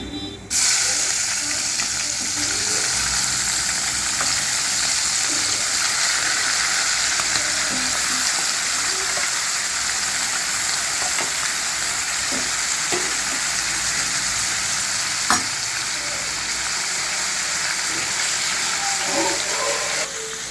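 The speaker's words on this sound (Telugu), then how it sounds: "కొంచెం వేగడం బాగా వేయించుకోవాలి" Food with curry leaves sizzles steadily in hot oil, a loud continuous crackling hiss with occasional small pops and stirring clinks.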